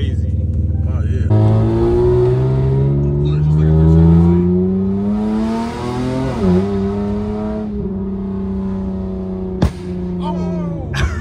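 A car engine, compared to a V8, revs loudly, rising and holding at a high pitch, then dropping back and settling to a steady roar, close by, with a couple of short sharp bangs near the end.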